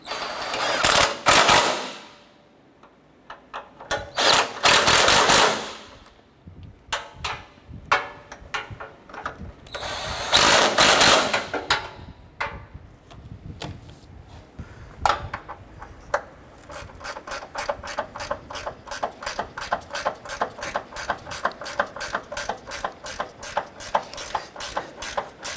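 A ratchet cranks down the bumper impact absorber bolts on a 2008-2012 Honda Accord, first in loud bursts of clicking with pauses, then as a long, steady run of quick, even pawl clicks close by.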